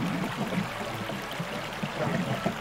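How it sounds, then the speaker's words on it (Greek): Steady rushing water runs from a water mill in the game My Time at Portia, a continuous moderate stream and trickle with no talk over it. "Αρχίζει και δουλεύει ο νερόμυλος."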